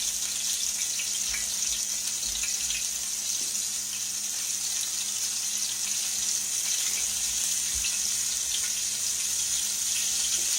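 Round steak pieces frying in a skillet over high heat, giving a steady, loud, close sizzle and hiss that runs unbroken throughout with no talking.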